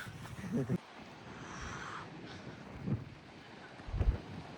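Gusty monsoon wind at Malshej Ghat buffets the microphone in low rumbling bursts, loudest near the start and toward the end, with a steady airy roar between.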